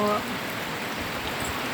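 Steady rain falls on a rural home, a dense even hiss of drops on surfaces that continues without a break, with a brief tone at the start.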